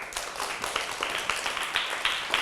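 A festival audience at a talent show in Azerbaijan applauds, with distinct, fairly rhythmic hand claps at moderate volume and no talking over them.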